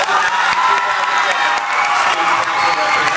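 Loud applause and cheering at a student council swearing-in ceremony, a dense roar of clapping with whoops and young voices shouting over it, steady and close.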